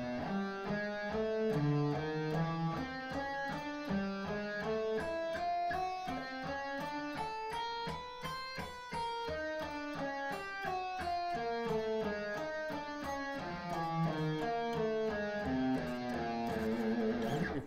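Guitar picking exercise in G Aeolian played slowly, single notes stepping up and down a scale at a steady, even pace, with clear sustained tones and quick transitions between notes, no voice.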